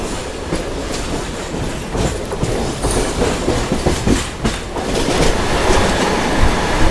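Express train rolling along a track as a local train overtakes it, with steady wheel rumble and rhythmic clickety-clack heard from inside a carriage, continuous and fairly loud throughout.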